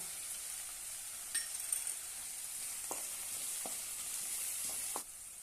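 Potatoes and curry leaves frying in a pan for a spicy Marathi potato curry, a quiet, even sizzle with a few sharp spoon clinks against the pan, then the hiss drops slightly near the end; no talk.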